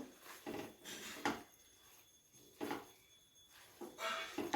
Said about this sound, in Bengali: কমিয়ে নিয়ে এই মশলাটাকে খুব ভালোভাবে সয়াবিনের সাথে মিশিয়ে নেব